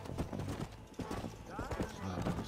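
Horse hooves clip-clop at a steady gallop in Red Dead Redemption while riding straight toward Blackwater, with someone talking over the rhythmic hoofbeats.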